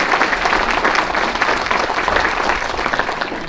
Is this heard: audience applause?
yes